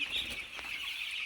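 Hens cluck in a short, busy stretch of farmyard chatter, moderately close and steady, with no voice.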